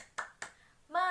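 Two sharp, separate hand claps from children in a fifth-grade primary school class, part of the 'tepuk semangat' clapping routine, followed by a voice starting to speak.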